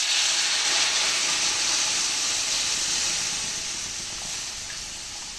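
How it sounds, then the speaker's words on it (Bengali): Hot water pours into a pan of fish curry made with kaila fish, a steady loud hiss and sizzle that slowly eases off, with no talking. "এখানে আমি দিয়ে দিচ্ছি গরম জল।"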